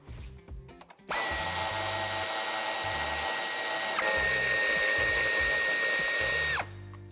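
Power tool whirring steadily as it backs out the screws on a plastic bumper reinforcement of a 2020 Dacia Sandero, one loud continuous run of about five seconds with a slight drop in pitch midway, stopping abruptly.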